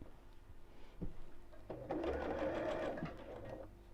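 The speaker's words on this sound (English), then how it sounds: "wrong sides together, the whole thing folded in half, and let's just sew down each side" An Elna Experience 560 sewing machine stitches down the side of folded fabric, a close, rapid mechanical whir running for about a second after a couple of soft clicks.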